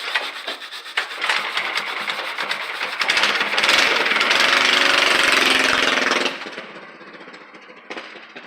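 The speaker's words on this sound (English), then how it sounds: "It's like the exhaust from the old motor." A loud, raspy mini bike engine sputters and roars nearby, building to a harsh steady drone before cutting back to a rougher idle.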